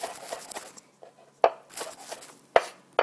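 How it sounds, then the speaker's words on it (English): A knife cutting around the top core of a tomato on a cutting board, a few sharp close taps against the board with softer slicing scrapes in between, no voices. "Just slice right around the top core of it"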